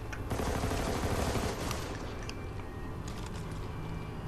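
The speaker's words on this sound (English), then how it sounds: "I'm getting shot from everywhere." Dense video-game gunfire from Army of Two: The 40th Day, rapid overlapping bursts and single cracks, heaviest in the first two seconds and then thinning into scattered shots under a steady background.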